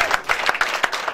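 A church congregation at a prayer seminar bursting into brief applause and cheering, a short patter of many hands clapping with rhythmic peaks.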